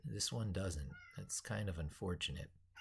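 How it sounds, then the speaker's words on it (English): Pet cats meowing indoors, their calls mixed in with a person talking close by throughout. "You can hear my kitties meowing."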